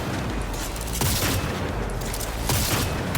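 Heavy, continuous gunfire in a video game, loud booming shots and rapid bursts layered over each other, with strong blasts at about one-second and two-and-a-half-second marks.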